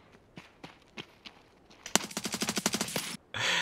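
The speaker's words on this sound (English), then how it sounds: "What is he shooting at?" Gunfire in a first-person shooter game: a few spaced single shots followed by a fast automatic burst of about a dozen sharp, loud rounds, then a short final burst, without talk.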